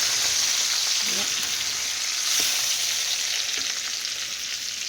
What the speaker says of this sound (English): I got one more small batch of fries to do